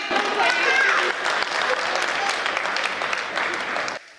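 A seated audience at a comedic speech event claps steadily, a dense continuous wash of applause that cuts off abruptly near the end.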